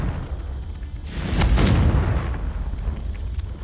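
Confringo fire spell exploding in the Hogwarts Legacy video game, a single loud fiery blast with a rumbling burst that swells and then fades back into steady ambient noise.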